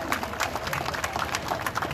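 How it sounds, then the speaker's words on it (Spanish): Spectators at a September 16 Independence Day parade in Ciudad Fernández, San Luis Potosí, clapping for a passing school, with a brief, dense burst of applause and crowd noise. "Un aplauso para la escuela."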